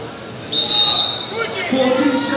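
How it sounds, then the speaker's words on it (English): A referee's whistle blows one sharp, loud half-second blast to start a strongman event at Scotland's Strongest Man 2019, followed by crowd noise and voices. "On Stuart's whistle, these guys will unleash hell"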